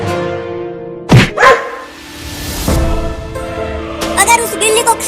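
A cartoon dog barks twice close up, sharp and loud, in a Hindi comedy cartoon scene, with a background music bed throughout and a voice talking around the barks.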